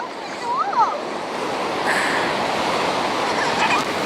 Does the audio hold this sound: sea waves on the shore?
yes